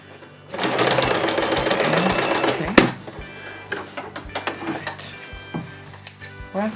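A sewing machine runs steadily for about two seconds, stitching a skirt seam. It stops, then come a few close clicks and handling knocks.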